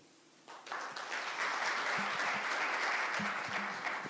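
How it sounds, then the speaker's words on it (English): An indoor audience at a justice sector launch event breaks into sustained applause, a dense wash of clapping that starts abruptly and continues evenly, with a few faint voices underneath. "A louder round of applause, please."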